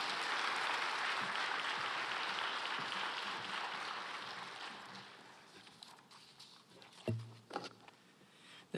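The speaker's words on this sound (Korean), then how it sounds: "나오실 때 한번 큰 박수로 격려하겠습니다." Congregation applause in a Korean church service, a broad wash of clapping that slowly fades out, followed by a few isolated thumps and footsteps near the end.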